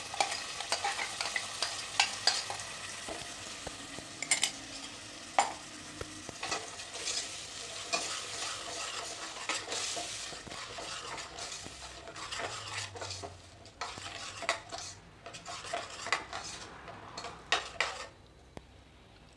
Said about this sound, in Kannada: ಇದನ್ನು ಈ ಒಗ್ಗರಣೆಯಲ್ಲೇ ಚೆನ್ನಾಗಿ ಇದನ್ನು ಫ್ರೈ ಮಾಡ್ಕೊಬೇಕು